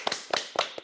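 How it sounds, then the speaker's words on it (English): A few sharp hand claps at a Montreal improv graduate show, coming in three quick, close bursts, like the start of a round of applause. "Give them a virtual round of applause"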